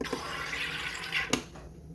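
A soda maker carbonating water in a bottle makes a steady close hiss and rush of gas and bubbling, ending in a short sharp release burst.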